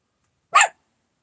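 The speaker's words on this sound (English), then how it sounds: "What are you barking at?" A single sharp dog bark, close and loud, with silence before and after.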